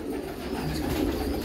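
A white Sendhwa Kalanja pigeon on a Hyderabad farm gives a brief, low, throaty coo over a steady background hum.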